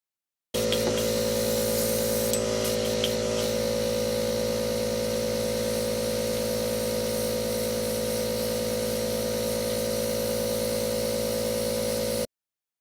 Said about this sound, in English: I'm going to go in and airbrush her foundation.